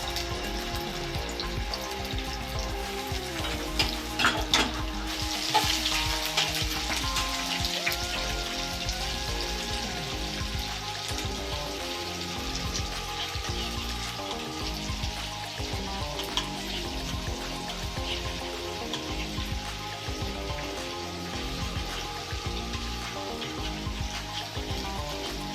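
Ginger and cumin paste fries steadily in a hot pan for a bottle gourd and poppy seed dish, a dense continuous sizzle and crackle with a brief sharper scrape of utensil partway through, no talking.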